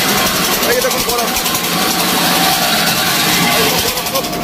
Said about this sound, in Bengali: এখানে বরফ ভাঙা চলছে